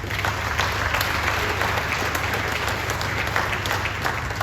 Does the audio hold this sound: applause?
yes